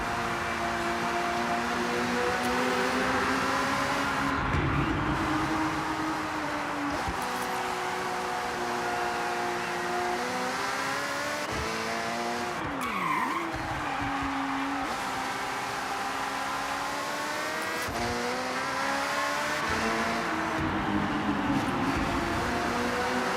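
Race car engine in Forza Horizon 6 droning steadily at high revs throughout, with pitch sweeps as it shifts and a brief dip and climb midway, loud and continuous with no talk.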